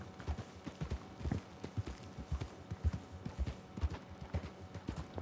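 Horse hooves thud along a steep northern trail in the Western video game Red Dead Online, a steady clip-clop of close, evenly spaced footfalls on dirt with no talking over them.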